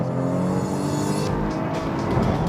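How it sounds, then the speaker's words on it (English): A Lotus Evora S engine blips and revs up sharply as it drops a gear under braking, loud and close, with road and tire noise. "as I start to brake, rev matching occurs, as you can hear"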